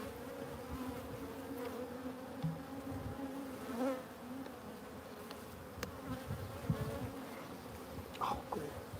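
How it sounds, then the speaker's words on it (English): Outdoors at a honey harvest, a swarm of honeybees drones continuously around open combs, a thick close buzz with individual bees flying past the microphone. "there's so many bees stuck in there"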